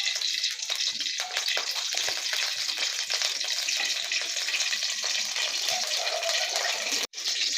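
Mustard oil heating in a karahi on a gas stove, a steady broadband hiss and faint crackle running continuously without a break, close and fairly even in level, with no talk over it.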